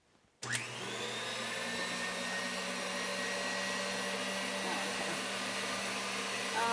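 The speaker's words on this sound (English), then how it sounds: "we're beating this until it's just a smooth consistency" An electric mixer whirs on abruptly and runs in a steady, close drone, beating cheesecake batter for German chocolate cheesecake bars until smooth.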